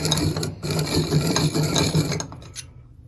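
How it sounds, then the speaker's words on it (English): A ring grinder files down an engine piston ring during a high-RPM engine build, giving a steady, close mechanical grinding whir with rhythmic pulses that stops abruptly near the end, no talking. "I'm gonna come over here to our ring grinder. Eat away at that a little bit."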